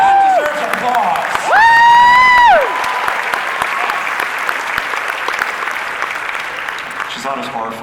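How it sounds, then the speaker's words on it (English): Audience at a Star Trek Discovery convention panel at San Diego Comic-Con 2017 bursts into broad, sustained applause with cheers and whoops. A voice rises over it early on, and the clapping carries on steadily beneath. "That deserves applause."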